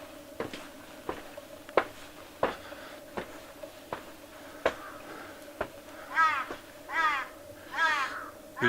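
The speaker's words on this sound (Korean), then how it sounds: "요즘 들어서 산에 까마귀 많네요." Crows caw on a mountain at sunrise, with repeated short sharp calls spaced through the clip and a cluster of louder, drawn-out caws near the end, clear over a quiet background.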